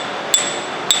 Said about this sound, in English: I'll use another hammer here to